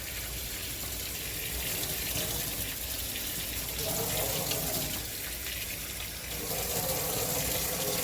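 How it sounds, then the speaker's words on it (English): Braiding hair is rinsed under running water from a tap, a steady close gushing and splashing that shifts slightly in tone as the hair moves through the stream, with no speech. "I'm just taking and rinsing the hair out."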